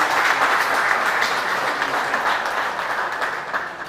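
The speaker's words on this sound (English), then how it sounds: "Another big round of applause." A crowd gives a round of applause, a dense, steady wash of clapping that stays loud throughout and fades slightly at the end.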